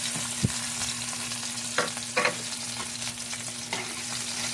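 Garlic frying in a pan gives a steady, even sizzle with a faint low hum under it, and a few soft clinks and scrapes of stirring stand out now and then.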